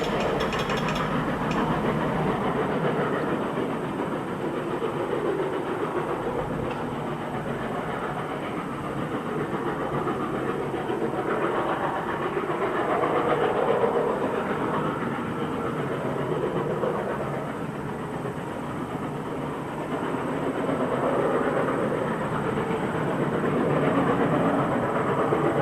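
Freight train led by two coupled locomotives passing by: a steady, loud rumble of wheels and clanking, ratcheting car noise continuing without a break throughout, with no talk.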